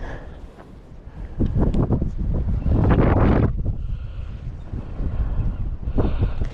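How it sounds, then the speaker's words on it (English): Gusty wind roars across the microphone outdoors, swelling into loud buffeting surges and easing back in between, with no voices. "But it is pretty windy."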